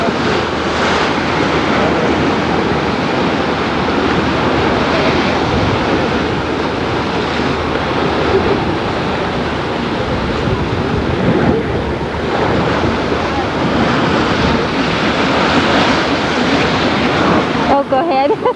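Ocean surf on the California coast roars steadily and loudly throughout, with heavy wind buffeting the microphone and no clear break in the wash of waves.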